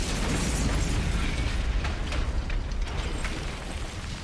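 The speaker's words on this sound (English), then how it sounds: "Well, there's the explosion." A big explosion in the video game Hundred Line Last Defense Academy: a loud, sustained roaring blast with deep low rumble and crackling debris, filling the whole stretch with no clear gaps.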